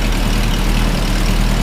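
Steady, close idle of a Mazda B2000 truck engine running on a Weber carburetor, a continuous low rumble with no voices.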